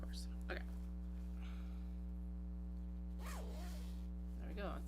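A zipper is fitted onto a large fabric box bag during sewing prep, with faint brief zipping rasps over a steady electrical hum and a few soft handling sounds.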